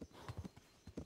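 Horse hooves clip-clopping in the medieval game Kingdom Come: Deliverance, a few uneven steps close by, soft and alone.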